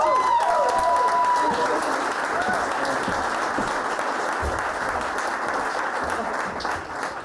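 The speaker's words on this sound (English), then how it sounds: "Big round of applause for Emily, everyone!" A crowd applauds loudly and steadily, the clapping tapering off a little near the end, with a few voices mixed in.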